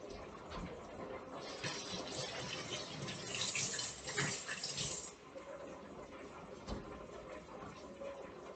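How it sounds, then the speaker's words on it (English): Tap water runs in a steady rush while hands are washed during cookie baking at home, with a brighter splashing stretch in the middle that eases back to a quieter flow. "I'm going to wash my hands real quick."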